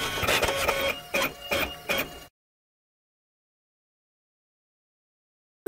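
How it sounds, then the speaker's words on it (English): Printer sound effect from the ABCya Find the Technology computer game: about two seconds of rhythmic mechanical whirring and chattering pulses, clear and close, ending abruptly into silence. "Printer."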